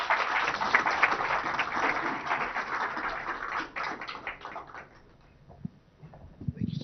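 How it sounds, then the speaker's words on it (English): A round of applause from the audience at the inauguration of a Google Safety Engineering Centre, greeting an IT Minister; dense clapping for about four seconds that thins and fades into quiet room noise with a few scattered claps. "Please join me in giving the Honorable IT Minister a big round of applause."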